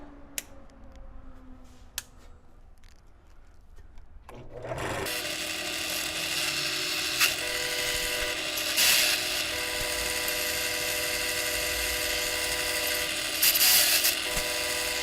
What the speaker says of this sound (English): I'm going to go ahead and drill this first hole.